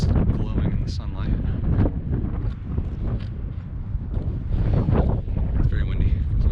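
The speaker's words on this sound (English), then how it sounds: "It's very windy" Strong wind at the Grand Canyon, Arizona, buffets the microphone in loud, continuous gusts, a rough roar that swells and eases throughout.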